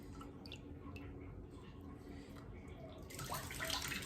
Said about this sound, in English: pour the water over my right hand. And rubbing my hands as I pour the water over.